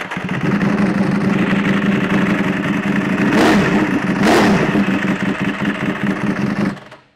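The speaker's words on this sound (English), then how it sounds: "This one has a race exhaust. That's why it sounds that way." A Ducati Desmosedici motorcycle fitted with a race exhaust runs loud and close, a steady rough roar with two sharp revs in the middle before the engine cuts off at the end.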